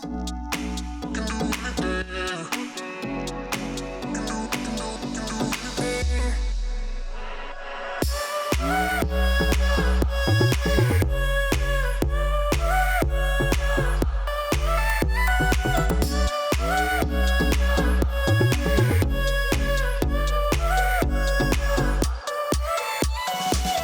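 A full electronic dance drop with a bright lead, punchy drums and heavy bass, starting sparse and then hitting hard and loud after a brief pause.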